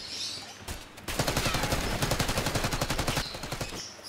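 Rapid automatic gunfire in Call of Duty: Black Ops 6 multiplayer, a loud sustained burst of closely spaced shots lasting a couple of seconds, set against quieter ambient game sound.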